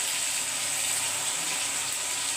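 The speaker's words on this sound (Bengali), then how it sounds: "আমি পনিরগুলো হালকা তেলের উপরে ভেজে দিচ্ছি" Paneer pieces frying lightly in a little oil give off a steady, close hiss of sizzling that holds evenly throughout, with no voices.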